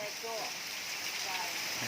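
Steady rain pattering down around an outdoor Thai-style grill-pot pork barbecue meal, a dense continuous hiss with faint voices in the background.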